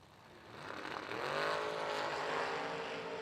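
Drag racing cars, a Vega wagon and a Camaro Roadster, roar as engines rise in pitch, a loud sustained swell that builds and holds.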